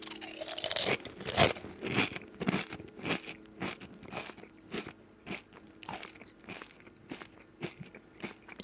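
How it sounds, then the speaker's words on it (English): Loud, close crunching and chewing of dry cornflakes in a mouth, a steady run of crackly bites with no talking. "put some cornflakes in my mouth and crunch them"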